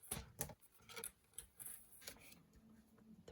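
Scissors snip through a sheet of cardstock being trimmed to 3 1/4 inches for a Stampin' Up card, a quick series of close, crisp cuts with faint rustling between them, no voices.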